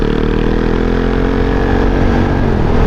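A steady, loud engine drone runs without pause, like a motorcycle cruising at constant speed, with no breaks or voices.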